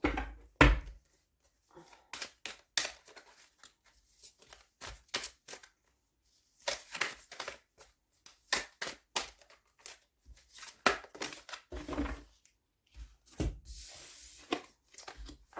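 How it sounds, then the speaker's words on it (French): Fairy tarot cards being shuffled and drawn, giving soft intermittent riffles, slaps and paper rustles in short bursts with quiet gaps, close by and faint, with no voice. "Maintenant, je tire quelques cartes avec le tarot des fées pour les conseils du mois de février"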